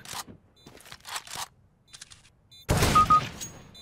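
Gunfire in the game CS:GO: a few short sharp shots early on, then a loud dense burst of rapid gunfire near the end, alone without talk.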